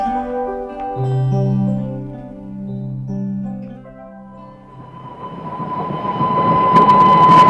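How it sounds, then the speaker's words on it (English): A loud train rumbles close by, with the low drone of the engine and a rising roar of wheels on track that swells toward the end. "here come the trains"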